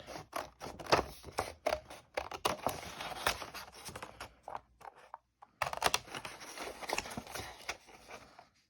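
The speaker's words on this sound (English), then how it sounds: "Take your non-fabric scissors and cut around that template." Rapid snipping and crisp cutting of a paper sewing template with scissors, close by, in uneven bursts with a brief pause midway.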